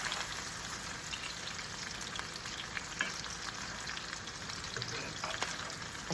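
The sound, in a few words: franks and beans frying in oil in a pan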